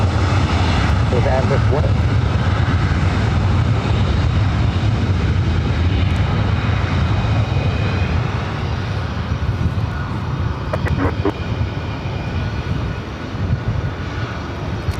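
An airliner takes off from the north side runway at LAX, its loud, sustained engine roar dominating while someone speaks briefly over it and the noise eases slightly toward the end.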